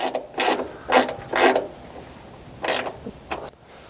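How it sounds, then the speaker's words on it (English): A wrench working a double-nutted fender stud on a 1967 Dodge Coronet 440, giving several short metallic ratcheting rasps in separate bursts with pauses between, close by and with no talking. "So we're gonna try to double nut it, see if we can't get this off."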